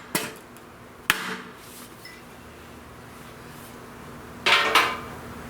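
A 1917 H N White King baritone saxophone is struck to straighten its bent body, giving a few sharp metallic impacts, two single hits and then a quick double knock, each ringing briefly against a quiet room.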